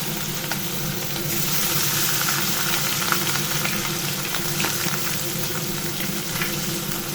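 Hilsa fish frying in oil in a pan, giving a steady, close crackling sizzle that holds throughout with small pops and no talking.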